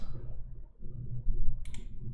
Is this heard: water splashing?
no